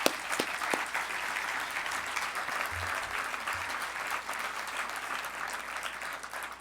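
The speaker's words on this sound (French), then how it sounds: "ça mérite une main d'applaudissement pour tout le monde" Sustained applause from a large gala audience fills the room, a dense, even wash of many hands clapping, moderately loud and continuous, with a few isolated nearby claps standing out.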